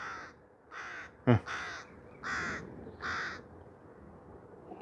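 A crow caws outdoors, loud and close, giving about five harsh calls in steady succession with a sharp click partway through and no talk.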